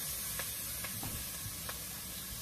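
Meat frying in oil in a pan alongside sautéing vegetables, a steady broadband sizzle with a few soft stirring clicks, close and continuous with no talking.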